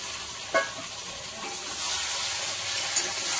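Ginger, green chilli and garlic paste frying in a pan for a fish dish, a soft, hissing sizzle up close with a couple of light utensil clinks and stirring, no voices.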